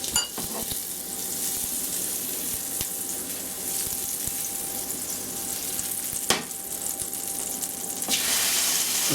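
Butter and a little oil sizzling in a hot pan before steak goes in for steak au poivre, a steady close frying hiss throughout with a couple of brief clatters, no talking.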